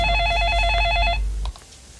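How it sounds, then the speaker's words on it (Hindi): A telephone rings with a warbling electronic trill in repeated bursts, loud and close indoors in a Hindi sitcom home, then cuts off abruptly, leaving quiet room tone. "क्यों मुझे बार बार फोन कर रही हो?"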